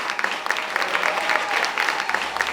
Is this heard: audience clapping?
yes